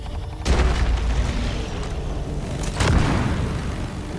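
Exploding enemy creature bursting in Deep Rock Galactic co-op action, a deep booming blast near the start followed by a second rumbling burst later, over continuous low game noise.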